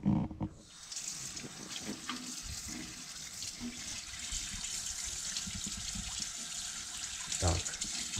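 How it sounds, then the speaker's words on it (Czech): A fish head being rinsed under cold running tap water in a kitchen sink, a steady hiss of flowing water with a few splashes and clunks, close and continuous, with no talking. "Takže v studené vodě to opláchnu."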